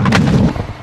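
A heavy, booming burst of gunfire rings out in Call of Duty Modern Warfare 2 (2022) team deathmatch on the Alboran Hatchery map, one loud close blast decaying quickly, with no talking.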